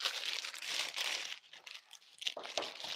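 Sheets of baking paper crinkled and crumpled while preparing a charcoal matcha Swiss roll, with close, soft rustling bursts and a brief pause in the middle.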